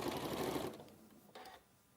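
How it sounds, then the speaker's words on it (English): A sewing machine stitches a quilt seam in a fast, close, even whirr, then stops briefly and runs again in a short burst before falling quiet. "I'll stitch the same seam allowance all the way around the quilt."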